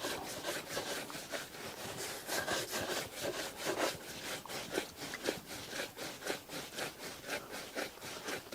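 Shoes are buffed by hand with a cloth, giving quick rhythmic rubbing strokes in a steady back-and-forth pattern, fairly faint, alone without talk.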